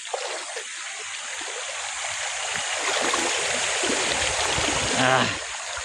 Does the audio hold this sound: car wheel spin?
no